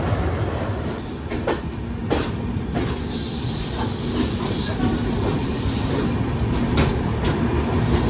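Tamil Nadu Express rolls into platform 3 at Chennai Central, with steady rail rumble, hissing brakes, wheel squeal and clickety-clack of the carriages close by, with no talk over it.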